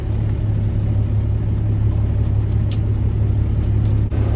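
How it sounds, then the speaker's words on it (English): Kenworth rolloff truck that sat unused for five years, its engine running with a steady low rumble as the hoist is raised, loud and continuous throughout without talk. "let's see if this hoist goes up"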